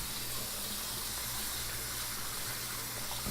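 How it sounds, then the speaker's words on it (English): Cold tap water runs steadily over cut potatoes in a sink, a continuous close hiss and splash with a faint low hum beneath and no talk. "it's time to give them a good wash under some cold water"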